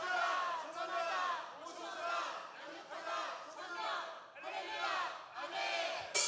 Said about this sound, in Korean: 구호 시작하면 크게 함께 구호 외치고 찬양하도록 하겠습니다.